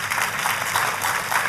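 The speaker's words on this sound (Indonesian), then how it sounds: "Tepuk tangannya lebih meriah lagi buat Yesus Tuhan kita" A dense, steady wash of crowd applause at a church worship service, loud and continuous, with many hands clapping together in a large room.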